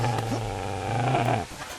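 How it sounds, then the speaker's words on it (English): A dog in the medieval video game Kingdom Come: Deliverance growls close and loud, a low rumbling snarl held for over a second before it cuts off. "Get away, you mutt! Get away, you beast!"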